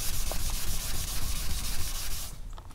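Dual-action sander with a 2000-grit pad wet-sanding black car paint, a loud continuous whirring rasp that cuts off abruptly near the end, with no voices.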